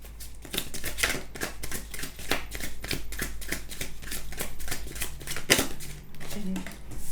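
Tarot cards shuffled by hand, a close, rapid series of crisp riffling and slapping bursts in an uneven rhythm, with brief pauses between handfuls.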